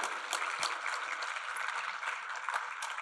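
Applause from an audience for board members at a civic forum, a steady wash of clapping that stays even and moderately loud throughout, without clear talk over it.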